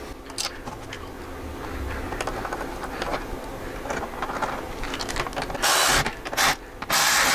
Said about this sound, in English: take our tool, just kind of hand start this. Snug that one up, and then the other two will go right in.